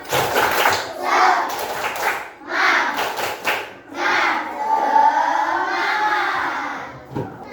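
Students in a classroom join in a rhythmic spirit clap, bursts of unison clapping and shouted chanting rising and falling in several loud phrases.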